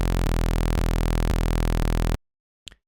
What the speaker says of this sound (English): so here I am with initialize patch. So if I play this,